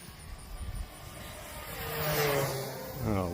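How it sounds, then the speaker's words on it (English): An FMS 1450mm P-51D Mustang RC model plane flies past a runway, its engine note rising and sweeping in pitch as it approaches and passes, with a steady buzzing drone building in loudness toward the end. "Oh, what a cool plane. A P51 Mustang."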